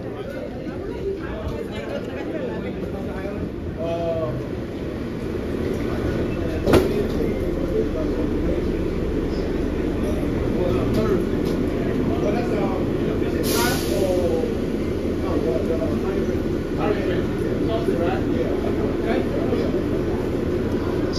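An airport Sky Train people mover at Houston Intercontinental rolls along with a steady loud rumble and whir, with chatter from passengers throughout and a brief sharp squeal partway through.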